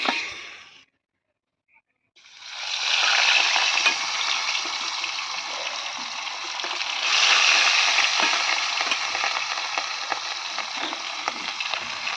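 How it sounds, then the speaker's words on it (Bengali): After a short silence, fish (rohu) begins sizzling steadily in oil, a dense, close crackling hiss that swells briefly midway and keeps going. "এখানে রয়েছে কিছুটা মাছ, তো এগুলো দিয়ে দেবো ভাজতে।"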